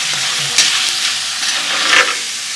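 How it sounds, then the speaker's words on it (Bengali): Thin potato papad chips frying in hot oil, a steady broad sizzle throughout with a couple of brief louder bursts as the oil is stirred, close and loud with no talking. "পাপড় ভাজতেছে, আলুর পাপড়গুলো।"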